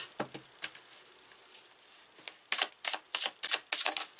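Tarot cards being shuffled by hand: a handful of crisp, close card riffles and slaps, a few sparse ones at first, then a quicker cluster of snaps toward the end, with no talking.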